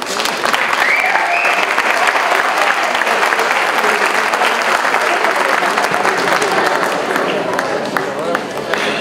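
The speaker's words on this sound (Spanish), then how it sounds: "Recibimos con un fuerte aplauso a Tere Villegas." A large audience gives loud, sustained applause to welcome Tere Villegas at a UAS event, a dense and steady wash of clapping that runs unbroken from start to finish.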